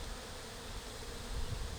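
Honey bees humming around hive frames in a new beeyard install, a continuous close buzz of many insects, fairly quiet and steady, with a slight low thump near the end.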